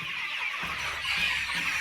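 Village chickens and chicks cluck softly in a poultry shed warmed by heat lamps on a winter evening, giving a faint, continuous chatter of overlapping clucks without any speech.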